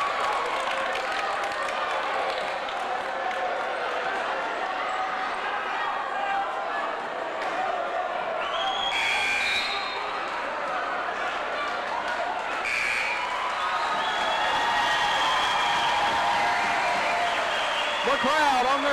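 Home crowd at a 1993 Cumberland District semifinal high school basketball game against Ervinton in Clinchport, Virginia, roars and applauds steadily, a dense sustained wash of cheering that swells toward the end, with an announcer talking over it.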